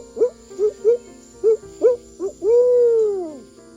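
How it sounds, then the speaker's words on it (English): A barred-style owl gives its rhythmic 'who cooks for you' hooting in a cypress swamp at dusk: a series of short, close, clear hoots ending in a long drawn-out descending note, heard alone. "These birds are notable for their "who cooks for you" calls that can be heard echoing through these cypress swamps at dusk."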